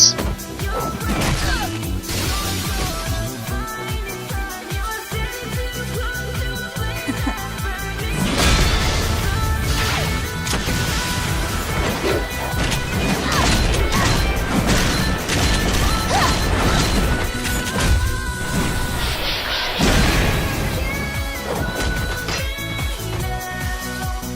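A multi-rocket launcher fires and smashes through an animated RWBY trailer fight: repeated loud crashes and heavy impacts with mechanical clanks, layered over a dense music score with no let-up.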